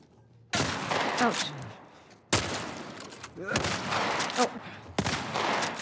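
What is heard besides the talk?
gunshots in The Last of Us Part 1 video game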